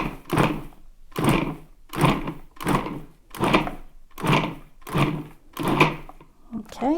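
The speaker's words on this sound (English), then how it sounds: "we're going to pulse this just a few times until it kind of resembles a coarse" A food processor pulses cold cubed butter into flour for lemon blueberry scones, giving seven or eight evenly spaced bursts of whirring and chopping with short pauses between them.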